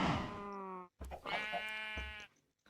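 Minecraft sheep bleat up close, two long wavering baas back to back with a short pause, clear and alone against a quiet background.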